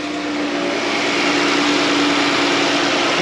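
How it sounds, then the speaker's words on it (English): A Pentastar 3.6 engine idles steadily and fairly loud, a dense continuous drone with a faint fast ticking from the injectors running under it, with no talk. "Just the ticking of the injectors."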